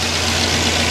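A freshly rebuilt LS1/LS4 V8 engine runs steadily just after its first start, a loud, continuous, close-up rumble with no voices over it.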